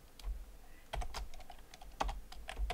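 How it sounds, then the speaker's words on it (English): Dummy text is typed on a computer keyboard in quick, uneven bursts of sharp key clicks at close range, with short pauses between runs of strokes and no voices. "And then in the content, just type in some dummy text."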